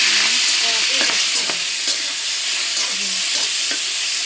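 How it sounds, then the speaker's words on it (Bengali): Shrimp fry in hot oil in a wok with a constant bright sizzle, punctuated by occasional scraping stir strokes and light clinks, with no voices. "যে চিংড়িগুলো ভেজে নিচ্ছি।"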